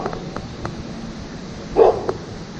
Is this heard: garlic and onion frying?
no